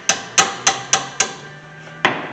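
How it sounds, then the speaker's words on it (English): A hammer knocks a brake caliper loose on a 2007 Honda Accord, six sharp metallic strikes at a steady, unhurried pace, close and loud, with a short pause before the last blow. "Use a hammer to knock it loose."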